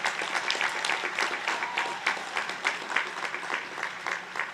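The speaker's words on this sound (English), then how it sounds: "give them all a round of applause" A crowd applauds at the Delaware State University 2023 undergraduate commencement ceremony, with steady clapping from many hands across the audience, holding at a fairly even level throughout with no talk over it.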